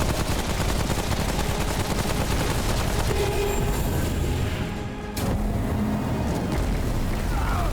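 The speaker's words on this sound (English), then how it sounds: "Those explosions are a lot bigger than they look like" Explosions and rapid gunfire in the video game Remnant: From the Ashes, dense and continuous booming bursts filling the whole stretch, with a brief dip near the end before the blasts resume.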